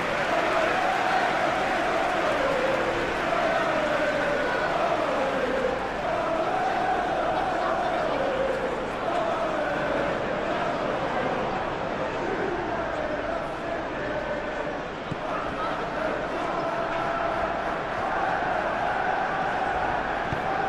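A packed football stadium crowd at a Manchester United versus Aston Villa Premier League match fills the air with a continuous roar of chanting and murmuring, swelling in waves, with a commentator talking over it.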